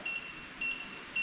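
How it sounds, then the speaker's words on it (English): Three short, high-pitched electronic beeps, evenly spaced about half a second apart, over a faint room hum. "I heard a beep"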